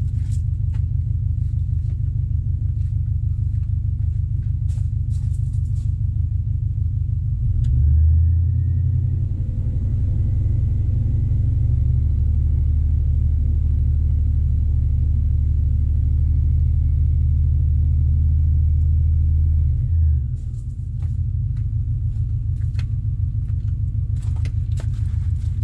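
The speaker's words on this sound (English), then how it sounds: "let's go give the car a few revs and see what changes." A car engine beside a camper trailer fitted with a lithium battery and DC-DC charger idles with a low, close rumble, then is revved and held at higher rpm for about twelve seconds before settling back to idle.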